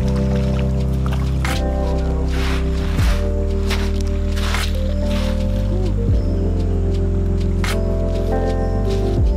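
Legs wade back into creek water during ultralight fishing, with sloshing and squishing splashes over a strong low engine-like drone and tonal hum, loud and continuous.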